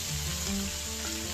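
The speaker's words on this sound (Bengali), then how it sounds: "তো পুঁই শাকটা দিয়ে আমি ভালো করে নেড়ে চেড়ে নেব।" Malabar spinach frying with onion and dried red chilli, stirred in the pan: a steady close sizzle with soft stirring movements throughout, no voices.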